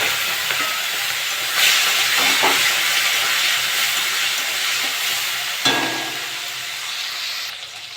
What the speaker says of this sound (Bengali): তেলটা গরম হয়ে গেছে, চিংড়ি মাছগুলো ভেজে নেব।